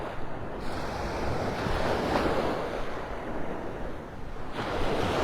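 Gulf of Mexico surf at Delnor-Wiggins beach in North Naples, Florida, with the tide coming in: a steady wash of breaking waves close by, swelling and receding, with gusts of wind buffeting the microphone.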